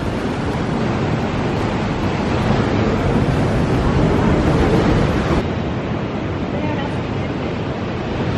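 Ocean waves wash into a seaside rock pool on an Australian morning, a steady, loud broadband roar of surf with wind buffeting the microphone throughout.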